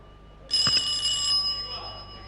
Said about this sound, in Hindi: हाँ टेलीफोन है वो